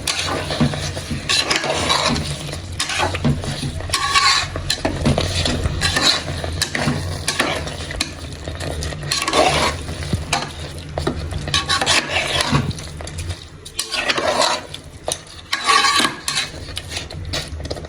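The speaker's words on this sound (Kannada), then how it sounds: "ಇವಾಗ ಬೇಯಿಸಿ ತೊಳ್ಕೊಂಡಿರೋ ಅಕ್ಕಿ ಹಾಕ್ಬಿಡೋಣ. ಅಕ್ಕಿಯೆಲ್ಲ ಮಸಾಲೆ ಮಿಕ್ಸ್ ಆಗಲಿ." A spoon steadily scrapes and stirs cooked rice with egg masala in a pan for palak egg biryani, making continuous gritty rubbing and light sizzling sounds close up, with no talking.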